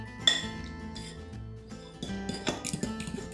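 A fork whisks olive oil and black pepper in a bowl, making light, irregular clinks and scrapes against the bowl, close and moderately quiet, busier toward the end, with no talk.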